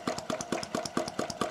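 A homemade miniature engine running steadily, a rapid even chugging beat of about five firing pulses per second, close and clear with no talking.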